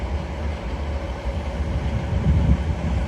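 A dual pair of Northern Trains Class 158 units, 158 870 leading, arrives at Carlisle on a terminating service from Leeds via Settle. A steady low rumble with wind buffeting builds slightly toward the end, with no talk.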